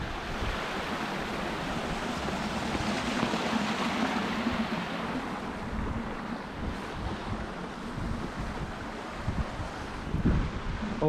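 A broad, steady rush of falling water from a waterfall at Glenshee, Scotland, roars continuously, with some wind buffeting the microphone and no one speaking.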